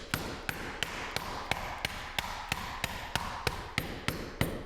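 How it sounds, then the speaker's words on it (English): The soft side of a hammer pounds Cadbury eggs sealed in a bag: about fourteen sharp, evenly spaced thuds at a steady rhythm, close and loud, over a faint background hum with no speech. "make sure you're using the soft side of the hammer so that you don't like the pop the"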